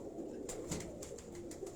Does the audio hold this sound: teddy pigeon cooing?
yes